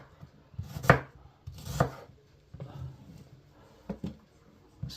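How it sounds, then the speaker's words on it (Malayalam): Knife chopping onions into square pieces on a board: a few sharp, distinct cuts spaced irregularly over several seconds, close and fairly clear with quiet gaps between strikes. "സ്ക്വയറായിട്ട് കുറച്ച് കട്ട് ചെയ്ത് വെക്കണം."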